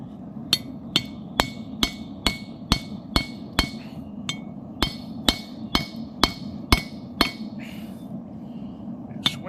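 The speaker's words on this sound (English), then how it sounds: "Take our trusty chisel," Steady series of about fifteen sharp metal hammer blows on a chisel, splitting a forged railroad spike axe head over an anvil's hardy hole, evenly spaced and ringing, close and loud with no talk.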